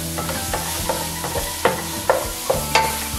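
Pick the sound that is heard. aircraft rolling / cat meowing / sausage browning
sausage browning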